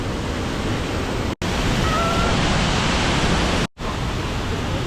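Water pours steadily down a heart-shaped waterfall at Pe Tor Lor Su in Thailand, a loud, continuous broadband rush that fills the clip and is broken only by two brief cuts to silence.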